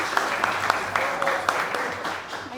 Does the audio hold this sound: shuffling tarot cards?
no